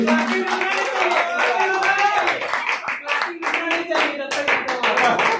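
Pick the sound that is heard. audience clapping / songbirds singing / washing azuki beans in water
audience clapping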